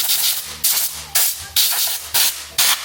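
Short repeated hissing bursts of starting fluid from a spray can into an engine, about five close, loud sprays in a steady rhythm with brief gaps between them.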